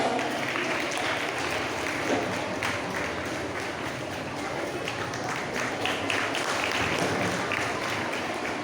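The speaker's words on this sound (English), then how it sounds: "Welcome them with huge round of applause." Audience applause at a school function, a sustained dense patter of many hands clapping at steady loudness for several seconds in a large room, with no voice over it.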